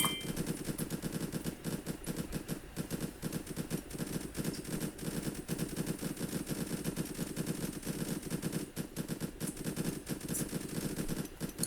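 Sniper towers firing in the tower-defense video game Infinitode 2: a dense, steady stream of rapid gunshot-like game effects with faint chimes, continuous and fairly quiet throughout, with no voices.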